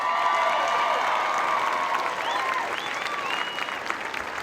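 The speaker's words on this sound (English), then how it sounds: "How about we give him a round of applause?" A crowd applauds at a Space Force basic military training graduation, steady massed clapping from a large audience with occasional cheers and voices rising over it.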